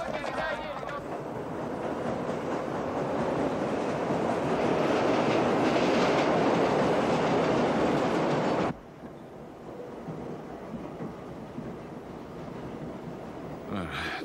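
A subway train rides the rails in New York in a 1990 film scene: a loud, steady rushing clatter that builds, then cuts abruptly to a quieter, hollower rumble.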